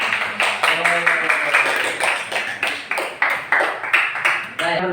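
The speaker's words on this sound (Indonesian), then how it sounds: "Terus kita kasih tepuk tangan dulu buat kelompoknya Farhan." A classroom of students claps for a group of classmates, giving close, rhythmic claps at roughly three per second that keep an even beat throughout, with faint voices mixed in.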